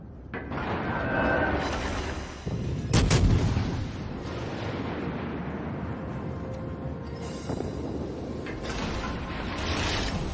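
Russian destroyers fire slow naval gun rounds in a video game, heavy booming blasts with a sharp loud report near three seconds and another around seven and a half, over a constant rumbling mechanical background.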